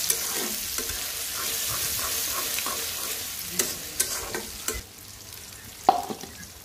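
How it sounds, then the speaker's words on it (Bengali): Onions frying in oil for a bitter gourd dish, a soft continuous sizzle close by, broken by a few scraping stirs in the pan. "পেঁয়াজটা ভালো করে ভেজে নিব"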